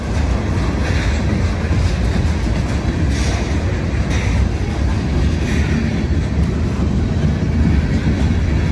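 A freight train rolls past on the tracks in a steady, loud rumble with faint rhythmic clatter, continuous throughout.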